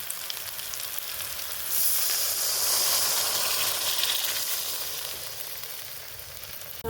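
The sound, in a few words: water added to frying spice paste, sizzling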